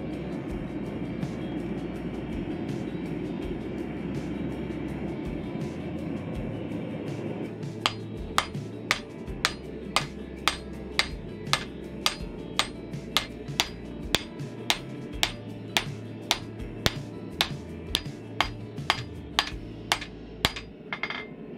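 Hammer forging hardened steel pieces for DIY blacksmithing guillotine dies to straighten them: after a stretch of steady background noise, a long series of sharp, ringing metallic strikes lands at a fairly even rhythm, close and loud.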